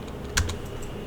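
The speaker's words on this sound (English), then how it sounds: "if we go ahead and type 20 again" Computer keyboard typing while entering input for a Python program: a couple of quick soft key clicks, close and quiet, with no talk.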